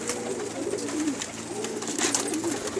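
Pet pigeons on a rooftop coo in soft, repeated throaty phrases, close and continuous with no one speaking.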